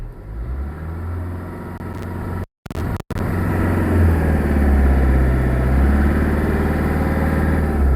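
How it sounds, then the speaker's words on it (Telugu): A second-hand car's engine turns over with a brief gap, then settles into a steady, loud idle before rising into sustained revving, close by with no one talking. "ఒకసారి ఇంజిన్ స్టార్ట్ చేస్తాను ఇంజిన్ అయితే రన్నింగ్ స్మూత్ రన్నింగ్లో ఉందండి ఒకసారి స్మోక్ అయినా వస్తాను చూడండి రేస్ చేస్తాను"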